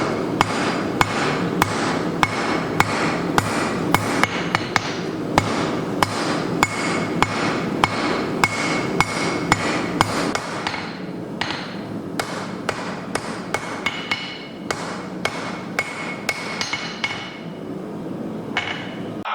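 Hand hammer blows on a steel skull being forged, softening its corners; rapid regular ringing strikes, close and loud, with a brief pause midway before lighter, slightly slower hits resume.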